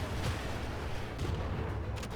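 A dense, rumbling burst of explosion and gunfire noise from the video game Mecharashi, steady and loud throughout with low booming thuds.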